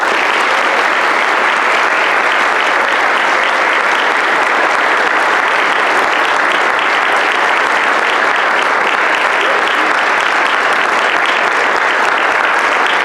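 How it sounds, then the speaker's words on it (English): A large audience of students and guests applauds NHS inductees at a high school National Honor Society induction ceremony, with dense, steady clapping sustained for the whole stretch and no voice on top. "Let's give all the NHS inductees a round of applause."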